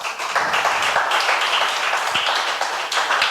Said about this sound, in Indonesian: Silakan kasih tepuk tangan dulu untuk Akil.